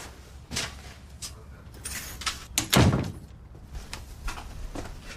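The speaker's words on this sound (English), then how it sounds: "Close the door." A door is closed indoors with a soft thunk amid small knocks and shuffling, one fuller thump standing out midway, fairly close.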